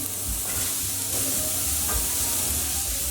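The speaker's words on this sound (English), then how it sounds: "We just want to fry our onions for about a minute or 2, just till they soften up and get some colour." Onions frying in olive oil in a pan over medium-high heat, a continuous close sizzle and hiss with occasional stirring scrapes, loud and steady, with no talking.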